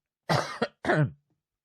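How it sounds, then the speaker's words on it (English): Two harsh, rasping coughs in quick succession, with a short burst between them, close and loud against silence. "coughing his lungs out"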